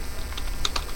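Quick, light keystrokes tap on a computer keyboard in a short burst, close and clear over a faint background hum, while notes are typed into a to-do list.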